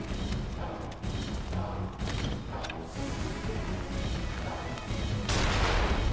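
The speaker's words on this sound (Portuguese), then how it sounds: "Eu posso usar também o canhão, ó." A cannon fires in the action game Nioh, heavy booming blasts and thuds mixed with game sounds and scattered mechanical clatter, loud throughout.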